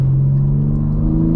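A BMW M3 Competition G80 sedan with a turbocharged engine and ZF eight-speed transmission rumbles loudly up close, a steady deep drone with a low tonal hum, no talk.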